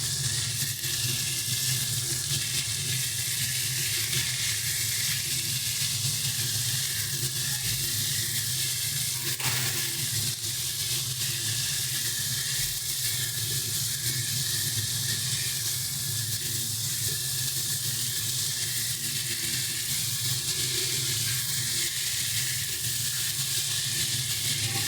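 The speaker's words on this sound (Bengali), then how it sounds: "দেখো এটা কিন্তু ভালো মতো প্রায় ভাজা হয়ে এসছে" Raw pumpkin pieces fry in a pan with ground coriander, cumin and salt, giving a continuous soft hissing sizzle with a faint stir partway through, steady and close with no voices.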